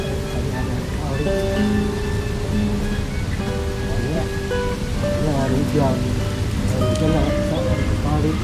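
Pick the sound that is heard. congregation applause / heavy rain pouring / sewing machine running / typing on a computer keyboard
heavy rain pouring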